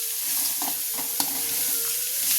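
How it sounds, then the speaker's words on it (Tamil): Onions sauté in a hot pan for chicken kulambu, a steady soft sizzle with light scraping stirs and one sharp clink of the utensil. "வெங்காயத்தை போட்டு ஒரு வதக்கு."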